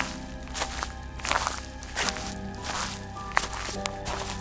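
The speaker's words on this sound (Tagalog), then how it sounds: "Marami ang yabag na naririnig ko, Misteri, kaya't pinatay ko agad ang gasera" Many footsteps shuffle and thud outside a hut at night, a faint irregular series of steps layered over each other, with background tones running underneath.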